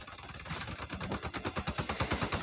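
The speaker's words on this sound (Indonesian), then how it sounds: "lu tembak bannya dulu ya teman-teman lu tembak bannya dulu baru senjatanya" Rapid automatic gunfire in the Crossout Mobile vehicle combat game as shots hit an enemy vehicle's tires, a fast steady stream of close, punchy bursts.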